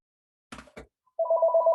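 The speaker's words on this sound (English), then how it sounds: "now the phone rings." Two short bumps of handling noise come first, then a telephone starts ringing with a loud, steady electronic warble that continues to the end, close to the listener with no speech over it.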